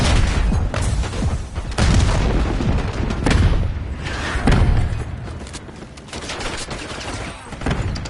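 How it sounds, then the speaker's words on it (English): Enemy grenade explosions and heavy gunfire in a video game, a dense barrage of booms and blasts rolling continuously with loud bursts about every second or two. "Enemy grenade!"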